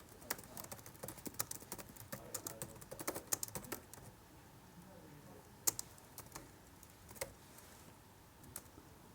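Quiet keyboard typing in bursts of clicky keystrokes during network switch configuration, dense for the first few seconds, then sparse isolated taps with pauses.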